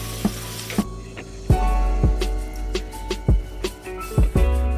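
A ground paste of onion and dried red chilli sizzles loudly in hot oil in a pan, crackling with sharp stirring scrapes and clicks close by, with no voices.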